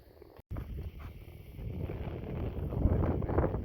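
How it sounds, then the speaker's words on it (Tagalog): Strong early-morning wind buffets the microphone outdoors, a steady broadband rush that swells louder toward the end, with no voices. "Very, very windy."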